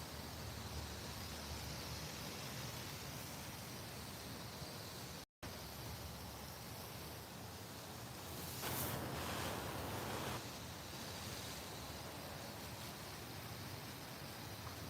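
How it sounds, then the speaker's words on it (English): Steady wind blowing outdoors in a Florida garden ahead of winter weather, a broad continuous rushing hiss that swells slightly partway through, close and constant with no voices. "The wind."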